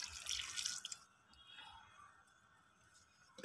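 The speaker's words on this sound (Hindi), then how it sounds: "खाद का मिक्सचर डालने के बाद अब हम इसमें पानी डाल देते हैं।" Water poured from a container onto the soil of an eggplant plant after fertilizer is mixed in, a short splashing pour in the first second, then faint trickling and quiet.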